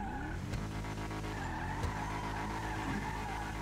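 Tires skid and squeal from an underpowered car in a racing video game, a loud continuous screech layered over steady engine drone with no pauses.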